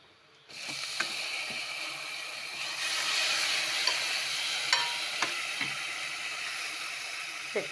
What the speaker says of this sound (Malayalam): തീ കുറച്ച് വെച്ചൊന്ന് ഇളക്കി കൊടുക്കാം